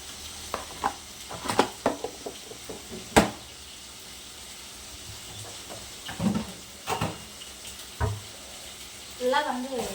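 A spatula stirs and sautés onions and spices with turmeric powder in a hot frying pan, giving scattered clattering scrapes over a low steady sizzle, close up and without speech.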